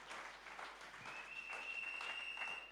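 A church congregation clapping to acclaim the Lord, a continuous patter of many hands that is fairly faint and roomy, with no talk over it.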